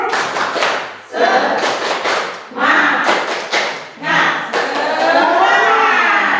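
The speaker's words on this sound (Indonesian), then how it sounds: "Oke, tepuk semangat." A group of adults claps the rhythmic "tepuk semangat" chant in several bursts of patterned clapping with short pauses between, mixed with voices chanting along at close range.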